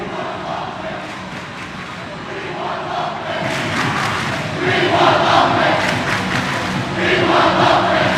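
Crowd noise in a gym at a boys' high school basketball game, a continuous murmur of many voices that swells louder partway through with cheering surges, fairly close and busy.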